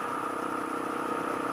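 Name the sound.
Honda XR400R motorcycle engine idling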